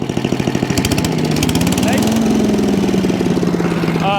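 Small engine of a chipper shredder with a suspect carburetor runs steadily at a mid-pitched hum, close and fairly loud, with a person talking over it.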